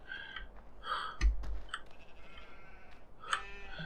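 A few sheep bleat in short bursts, moderately close, with a thump and faint clicks in between; no talking.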